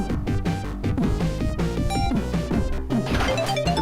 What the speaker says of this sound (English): It's literally all the music that's in the game crammed into a single level, and it is a clusterfuck of sound